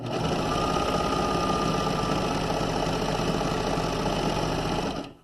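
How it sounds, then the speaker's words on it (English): A serger sewing machine stitches and trims the cut edge of fabric while sewing a pajama pants crotch seam, a loud, steady, rapid mechanical whir that runs without a break before cutting off at the end. "as you are creating a serge because it actually cuts the edge of the fabric off as you are sewing"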